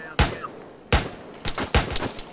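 Suppressive fire in the military shooter ArmA 3: four sharp, loud rifle shots spaced irregularly about half a second apart, each with a short echoing tail, and no talking.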